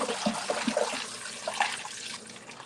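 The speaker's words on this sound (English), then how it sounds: "I'll give you some fresh water." Fresh water poured for a cat, a steady liquid trickle and splash running under faint background sound for a few seconds, with brief brighter splashes early on.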